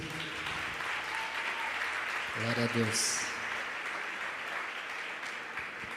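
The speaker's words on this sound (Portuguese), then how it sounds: "Vocês podem dar uma salva de palmas para Jesus?" A crowd at a religious gathering claps steadily throughout, with a voice briefly speaking over the applause midway.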